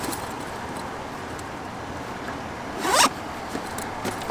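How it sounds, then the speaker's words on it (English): A zipper on an Indeflate gear bag is pulled shut, one quick rising zip near the end, close and distinct over a faint steady background hiss. "Zips closed."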